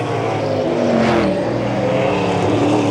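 SCCA Trans Am race cars roar around a track during the 1991 Grand Prix, a loud continuous engine drone with a brief louder swell as one car passes close, sliding under power.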